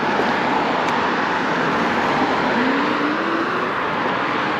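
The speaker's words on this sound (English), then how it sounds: "There's a lot more traffic today." Road traffic passing an e-bike rider on a cold day, a constant broadband rush of tyre and wind noise with one vehicle's engine tone sweeping up as it goes by.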